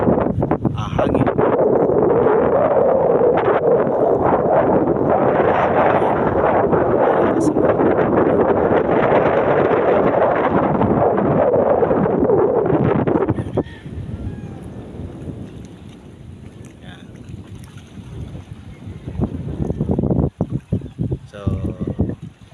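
Strong, gusty wind buffets the microphone with a loud roar for most of the clip, then drops to quieter rustling with occasional bursts.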